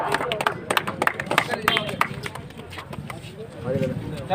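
Scattered hand claps from a crowd at a village gathering in Munsari, uneven and sparse, mixed with background murmur and a voice speaking over them.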